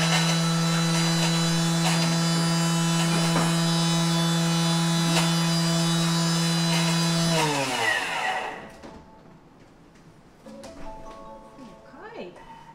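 Thermomix TM6 food processor whirring at top speed 10, a loud steady high-pitched motor drone that runs for about eight seconds and then winds down abruptly, leaving quieter kitchen sounds.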